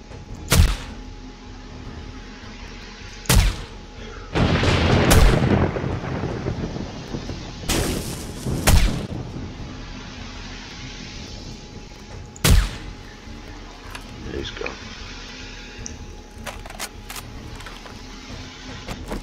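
AK rifle fire in the video game 7 Days to Die during a horde night, heard as a few loud, sharp, widely spaced shots over a steady ambient background, with no talking.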